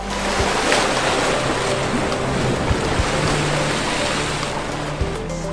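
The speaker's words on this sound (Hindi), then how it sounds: "पत्थर से हौले हौले टकराते समंदर की लहरों के स्वर वाकई दिल को सुकून देते हैं।" Sea waves lap gently against rocks on the Mumbai shoreline, a steady wash of surf with soft swells and small splashes, close and continuous with no voices.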